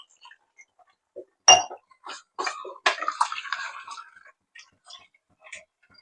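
Water poured from a tumbler into a pot of chicken curry, heard as a handful of short close splashes and trickles against near silence.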